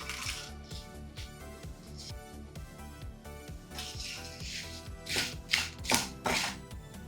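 Taro root fry stirred in a pan, a soft, continuous scraping and shuffling over a faint hum, rising into several louder, crisp scrapes toward the end.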